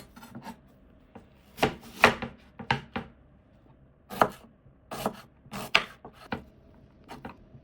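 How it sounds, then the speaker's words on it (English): A knife slicing a medium red onion on a cutting board: irregular clusters of sharp chopping taps, close and fairly loud, separated by short pauses, with no talking. "Slice 1 medium red onion."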